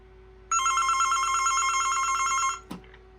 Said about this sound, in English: A very classic ring.